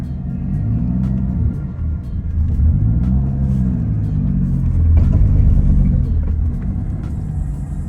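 A Toyota Supra engine with a W58 manual gearbox drones steadily at low pitch with shifting harmonics as it rises and falls in speed while driving, close and continuous, with no voices.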